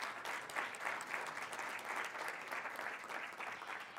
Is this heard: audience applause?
yes